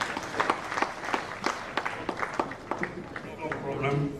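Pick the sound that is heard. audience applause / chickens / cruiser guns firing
audience applause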